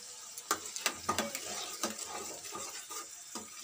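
Curd and spice masala of turmeric, chili and cumin powder are stirred in a pan, with a soft sizzle and quick, repeated scraping and tapping strokes of the spoon, close and fairly quiet.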